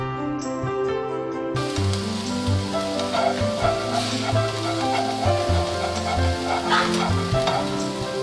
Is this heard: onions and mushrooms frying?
yes